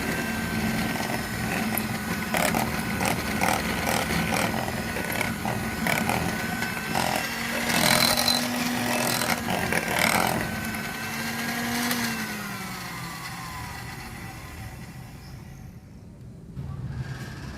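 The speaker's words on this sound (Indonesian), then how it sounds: "Mixer sampai tercampur rata." An electric hand mixer whirs steadily as it beats cookie batter with egg whites for crisp lidah kucing biscuits, a continuous buzzing motor drone close by that fades toward the end.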